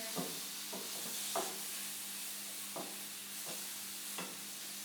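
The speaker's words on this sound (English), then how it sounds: "Just turning our tempeh one more time, getting the final edges a little bit browned and cooked through." Tempeh fries in a skillet alongside mushrooms and greens, a steady close sizzle punctuated by about six soft scraping stirs as the pieces are turned.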